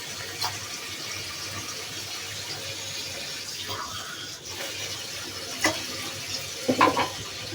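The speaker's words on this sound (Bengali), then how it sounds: "2 কাপ পানি দিব।" Water poured from a tap or jug into a pan for sugar syrup in a home kitchen, a soft steady flowing trickle with a few faint clinks, quiet and alone.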